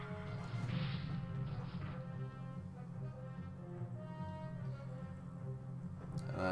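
Shatter attack effect from Yu-Gi-Oh! The Falsebound Kingdom, a quiet crashing smash with ringing tonal layers that fade gradually, set over a steady low game drone.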